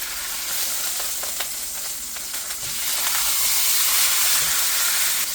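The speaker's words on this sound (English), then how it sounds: "We want to sear it on all sides." Food sears in hot oil in a pan, giving a steady, bright sizzle and hiss that swells louder partway through, broken by a few faint clinks, with no voices.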